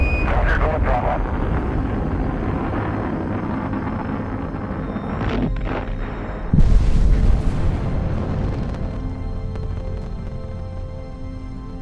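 Space Shuttle Challenger launch and explosion, heard as a steady deep roar of rocket engines with a louder, brief boom-like surge partway through before the rumble continues and slowly fades.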